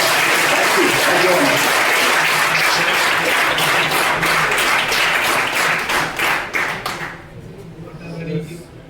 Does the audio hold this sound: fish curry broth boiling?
no